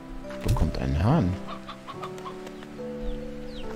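A rooster in the video game Slime Rancher 2 clucks in a quick burst of close, loud calls, then fainter clucks follow while a voice talks over the game sounds.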